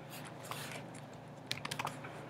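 Someone types on a computer keyboard while coding, sending quiet, close key taps that come in a few light scattered strokes and then a quick burst of several keys near the end.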